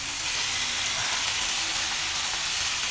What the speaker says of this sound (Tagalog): gisa lang natin para lumasa yung lasa ng ating manok sa gulay